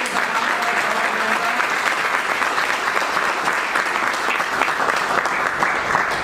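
Loud sustained applause from an audience in a hall, dense clapping that holds steady for several seconds with no break.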